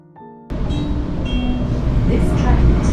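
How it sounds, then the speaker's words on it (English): A Sydney train stopping at Circular Quay rumbles loudly and steadily after a sudden onset, with rail noise and faint background voices. "This train stops Circular Quay."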